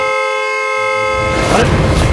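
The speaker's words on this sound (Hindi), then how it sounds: "नॉन स्टॉप हॉर्न बजा रहा है?" A loud, steady vehicle horn blares without pause, then gives way to a burst of rough, noisy commotion.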